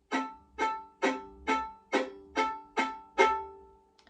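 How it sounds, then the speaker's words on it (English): Eight evenly spaced spiccato violin notes played with the full bow hair, short and bouncing, each with a full, rich attack and quick decay, played alone at a steady moderate tempo. "let's say I'm playing with all of the hair of the bow"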